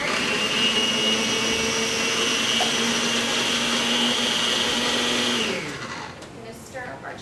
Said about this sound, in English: we're going to blend up the tofu in here for a little bit